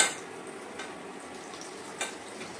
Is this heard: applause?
no